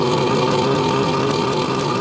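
Two-stroke outboard boat motor running after being started following a long layoff, a loud, steady, buzzing engine drone held evenly throughout without talk.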